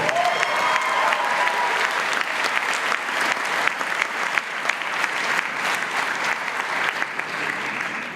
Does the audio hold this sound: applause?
yes